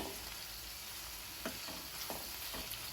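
Drumstick and brinjal curry stirred in a pan, gentle frying sizzle under a few distinct spoon scrapes close by, quiet and without speech.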